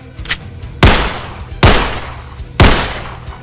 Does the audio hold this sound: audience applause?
no